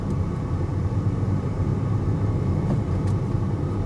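BMW X5 with its gearbox in relearn mode accelerating from a stop, a steady engine drone and road rumble rising through the gears, harsh shifts not clearly picked out, no voices.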